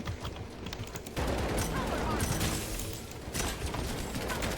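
Bursts of rapid gunfire in the video game Strinova, loud and dense, with a voice speaking over parts of the shooting.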